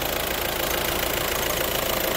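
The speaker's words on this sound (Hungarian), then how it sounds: "meghallgathatjuk még ezt a szép kis moci hangot" A Skoda Superb 1.9 PDTDI 131 hp diesel engine idles with a steady, even clatter, loud and close, with no talking.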